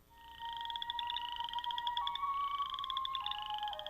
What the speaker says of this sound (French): Les rainettes faux-grillons vivent au Canada, du Québec à la Colombie-Britannique et dans le Nord-Ouest.